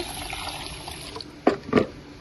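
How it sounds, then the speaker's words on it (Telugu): Water poured over moong dal in a bowl to soak, two short splashing bursts near the end after a quiet start. "ఇప్పుడు కొన్ని నీళ్లు పోసి నానబెట్టుకుందామండి"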